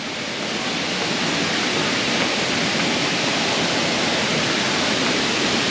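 Sanaghagara waterfall in Keonjhar, Odisha roars as a loud, steady wash of falling water, unbroken and alone throughout.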